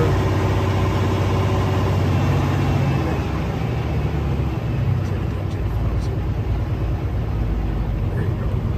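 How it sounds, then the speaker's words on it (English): A 2017 Kenworth T680 truck's diesel engine runs steadily at about 1000 RPM, a continuous close, loud low rumble with a steady throb throughout. "show you the blow-by that's going on, let you listen to it running"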